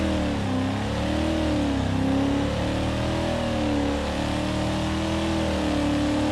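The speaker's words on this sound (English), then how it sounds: "It is a big truck, making only 300 horsepower." A big 300-horsepower truck engine accelerates in the BeamNG driving game, droning loud and close with a steady, rising and falling pitch as it pulls through the gears, with no voices over it.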